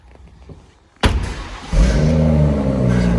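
After a quiet moment a BMW M140i engine cranks and catches abruptly, then settles into a loud, deep burbling idle with a low rumble.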